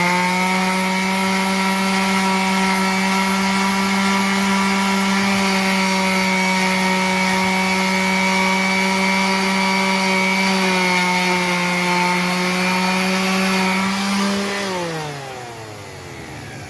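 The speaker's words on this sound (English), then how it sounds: "So I'm just going to try to use my rotary sander with a 120 grit and get all that worked out." A rotary sander fitted with 120-grit paper grinds on a black-painted wheel rim, a loud, steady whining drone that holds its pitch for about fourteen seconds, then spins down and falls in pitch as it stops.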